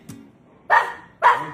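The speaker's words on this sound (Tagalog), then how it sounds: "Tahol na galit." A dog barks angrily on command: two close, loud, sharp barks about half a second apart, preceded by a faint short yip.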